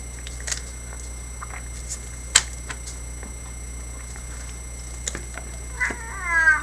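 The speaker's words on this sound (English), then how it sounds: "I know, that's my cat Midnight" A house cat meows briefly a few times, faint and short against a quiet indoor hum, with one longer wavering meow at the very end.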